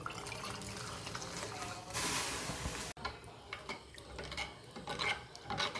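Dal water from a pressure cooker is poured into a pot of tomato rasam, a brief rushing splash in the middle followed by quieter liquid sloshing and stirring sounds in a kitchen.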